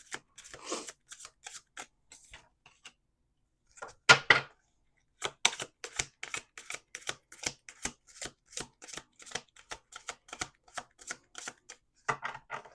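A deck of playing cards being shuffled close up, with repeated quick riffling bursts and short pauses between, quiet and without talk.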